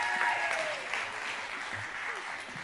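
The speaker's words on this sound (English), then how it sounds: "give those kids a round of applause again" Audience applause for a group of kids at a church service, a steady broad wash of clapping that holds at moderate level throughout, with a faint voice underneath.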